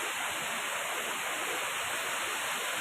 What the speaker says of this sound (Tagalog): Maliit na falls.